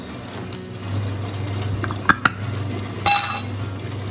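Several sharp, hard clinks and clatters of tumbled rocks dumped out of a rock tumbler barrel sound in scattered bursts over a low, steady hum.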